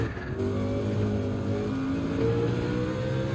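Mercedes CLK GTR V12 engine in Gran Turismo 7 revving hard on the Nürburgring, a steady rising mechanical drone climbing in pitch through the gear, close and loud.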